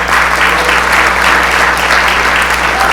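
Steady applause from an audience at a labor awards breakfast honoring the governor, dense and continuous clapping filling the room for three seconds with no speech over it.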